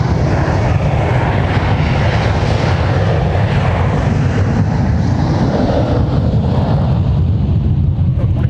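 Delta airliner taking off at MSP airport, its engines producing a loud, sustained roar with heavy low rumble and a broad hiss that stays steady and close throughout.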